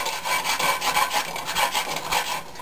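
Wooden scraper rubbing along the bottom and sides of a cast iron pan to lift caramelized sugar, a dry rhythmic rasping in repeated strokes, close and clear with no talk.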